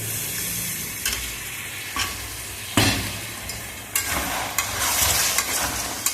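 Pointed gourd and prawn curry sizzles steadily in a pan as water is poured in, with a spoon stirring and scraping in several distinct strokes, close and moderately loud, without voices.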